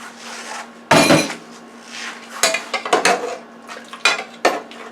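A spoon stirring lemon pork stew in a pressure cooker pot, a few close clinks and scrapes against the metal in an irregular rhythm over a faint steady hum.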